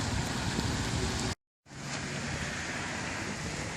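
Steady rain hisses at a flea market, a dense even wash of falling water broken by a brief silent gap before it resumes just as strongly.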